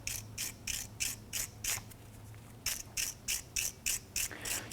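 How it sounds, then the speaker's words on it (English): A wire brush scrubs the threaded section of a drum brake adjuster from a 1994-2004 Chevrolet S-10, giving quick, even scratchy strokes in two bursts of about six each with a short pause between, close and alone. "Just using your wire brush."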